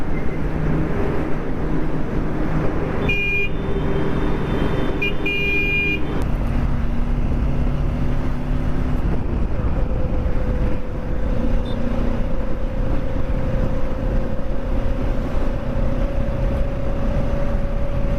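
Loud, continuous Pune road traffic rumble with engines droning nearby, several vehicle horns sounding early on, then a long steady engine whine.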